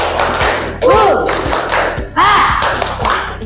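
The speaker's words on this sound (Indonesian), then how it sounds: "Tepuk semangat." Schoolchildren in an Indonesian primary madrasah classroom perform a rhythmic spirit-clap routine: steady, evenly spaced claps roughly twice a second, loud and close, with bursts of group shouting over the beat.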